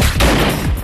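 A Russian shotgun firing produces a brief, loud, dense burst of blast noise that fills the whole moment with no pause.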